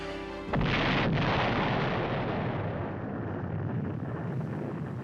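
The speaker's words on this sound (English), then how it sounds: "the captain and the crew of the Clayoquot heard a tremendous explosion" A sudden massive torpedo explosion at sea bursts in after a short lead-in, then rolls on as a long, dense roar that slowly fades.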